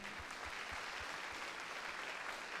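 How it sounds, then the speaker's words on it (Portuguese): A church congregation applauds steadily, a dense even wash of clapping from a large group that continues without letup. "Vamos aplaudir a Deus por esta palavra."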